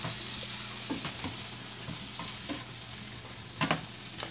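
Perch or pickerel fillets frying in a pan, an even sizzle at moderate level with a few soft scrapes and taps of a spatula near the end.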